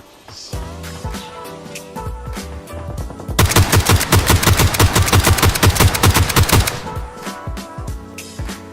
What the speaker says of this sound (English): And that's the G36 on single tap with the 3X, and it is really good.